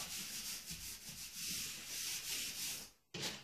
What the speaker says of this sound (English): I'm going to rub over this well, make sure it's nice and adhered